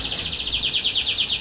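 Canaries of agate opal, Isabel opal and yellow mosaic varieties chirp in a steady, rapid series of bright repeated notes, fairly close and continuous, with no voices.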